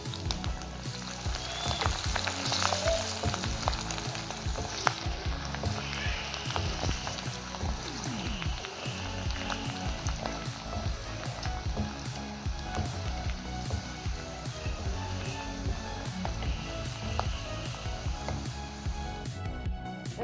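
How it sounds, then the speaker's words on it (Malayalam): Garlic frying in oil in a pan while making a green chili pickle, a steady dense sizzle and crackle that carries on for the whole stretch with occasional stirring scrapes, close and fairly loud, with no talking. "നമ്മുടെ വെളുത്തുള്ളിയെല്ലാം മൂത്ത് റെഡിയായി"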